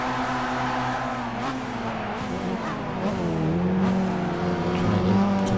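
A race car engine roars steadily close up while driving through a corner, pitch dipping and climbing as it brakes and accelerates, with a brief tire squeal.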